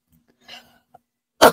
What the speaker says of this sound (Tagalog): inuubo pa rin po ako.